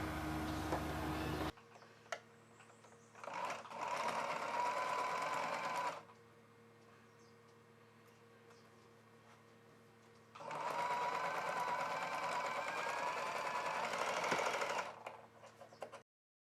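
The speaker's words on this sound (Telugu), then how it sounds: "ఇప్పుడు ఇక్కడ నుండి ఈ చివరి వరకు కుట్టు వేసేసుకోవాలి" A sewing machine stitches a fabric face mask in two steady runs with a quiet pause between them, its rapid mechanical whir and needle ticking close and loud.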